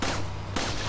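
Two sharp gunshots in the video game Resident Evil 4, loud and close, the second following about half a second after the first.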